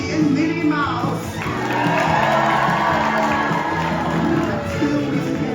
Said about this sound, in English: One more hearty cheer for your captains, Mickey and Minnie Mouse.